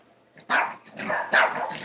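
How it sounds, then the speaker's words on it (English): Several dogs barking loudly and close by in a house, rapid overlapping barks with a slight growl, with no talk. "the doggos are barking."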